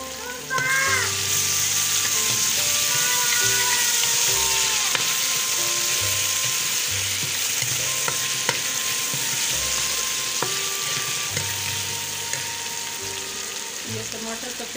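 Garlic and ginger paste frying in hot oil with onions, sizzling steadily and loudly while a spoon stirs it, with intermittent scraping and clinks close by, no talking.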